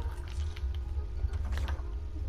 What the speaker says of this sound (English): open the hell out of that door